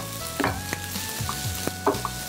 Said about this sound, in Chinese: 然后稍微炒一下